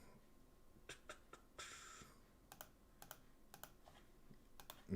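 Quiet, close typing on a computer keyboard: scattered clicky keystrokes in short irregular bursts, with one longer run of keys, over a faint room hum and no talk.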